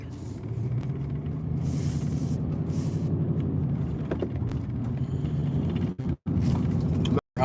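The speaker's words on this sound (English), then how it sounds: "Back in the noisy truck." Steady loud low rumble fills the cab of a moving truck heading south, a continuous droning engine and road roar with a couple of abrupt brief dropouts near the end; no talking.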